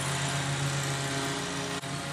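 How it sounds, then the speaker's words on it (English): Lawn mowers running in a neighborhood in the early morning, a steady loud engine drone with a constant low hum that continues without pause, no talking. "It's early morning, everybody's out mowing the lawn."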